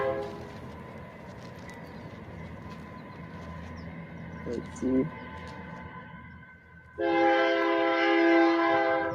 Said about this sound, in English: at a push of a button, I can have the train whistle now